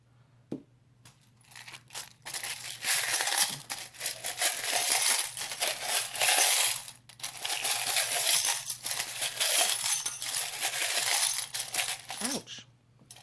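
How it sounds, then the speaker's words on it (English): Small charms are shuffled in cupped hands for a pick-a-card reading, producing a dense, continuous metallic clinking and rattling in close bursts, with brief pauses between handfuls. "Someone said I shuffle the charms too loudly."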